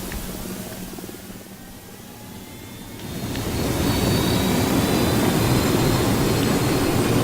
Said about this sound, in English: Let's use the helicopter and chase a truck.